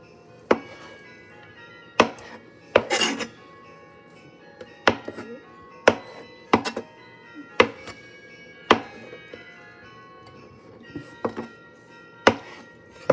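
Tofu being cut into squares on a cutting board with a knife, sharp chopping taps landing close up at irregular intervals roughly every second, with softer knife and board sounds in between.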